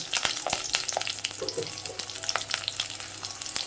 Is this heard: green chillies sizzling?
yes